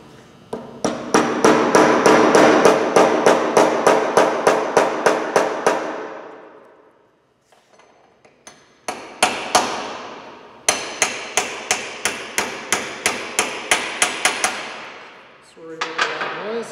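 Steel hammer driving an 1/8-inch shear pin through the piston and body of a slickline cam cutter, struck in rapid, evenly spaced sharp blows in several bursts with brief pauses, loud and close.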